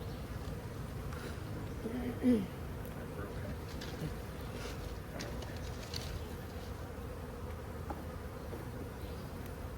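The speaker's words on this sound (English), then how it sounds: "Tons of bees" Honeybees hum in a dense, steady buzz around an open hive during inspection, a thick close drone with a brief louder thump early on and faint outdoor background.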